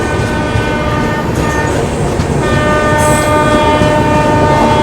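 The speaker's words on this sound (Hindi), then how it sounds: "बस अभी डिपार्चर हुआ है, ट्रेन जस्ट चली है और चलते ही ये देख लो इस जर्नी का पहला ओवरटेक भी मार दिया अभी" The Garib Rath express train departs Lucknow and overtakes another train. A loud, steady rumble of wheels and carriages continues throughout, and a horn blast sounds near the end.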